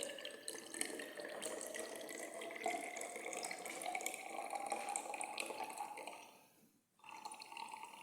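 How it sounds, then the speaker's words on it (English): Distilled water poured steadily to top up a 100 mL volumetric flask in a back titration lab, a continuous close trickle with a brief pause near the end before it resumes. "So this is my distilled water. Then I have to top up and ensure you don't exceed 100."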